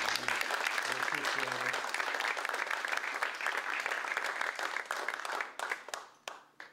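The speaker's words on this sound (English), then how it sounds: "Please applaud for this author." A crowd applauds after a poetry reading, loud dense clapping that holds steady before thinning into scattered final claps and fading out.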